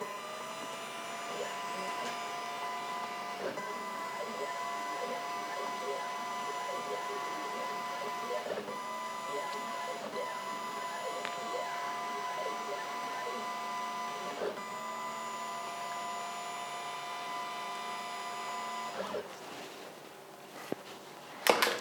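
An Ortur Laser Master laser engraver works over hardwood, its stepper motors buzzing and whirring in a repeating pattern of rising and falling tones with a steady fan hum beneath, close by and moderately loud.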